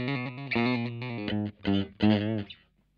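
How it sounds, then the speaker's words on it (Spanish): Electric guitar through a Boss MD-2 Mega Distortion pedal set for light overdrive, strummed chords ringing with mild grit, several sustained chords over about three seconds with a short gap before the final two strums. "Es como un leve overdrive."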